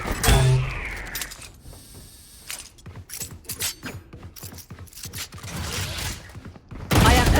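Rapid gunfire bursts in the shooter game Valorant, sharp cracks in quick uneven clusters with mechanical clicks between them, close and loud, followed by a louder burst at the end.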